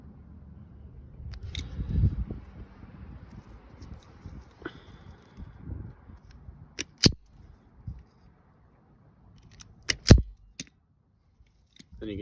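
Wire insulation being cut shallowly on red and black leads during an LED off-road light install, a few sharp isolated snips and clicks amid soft handling rustle, close and quiet with no speech.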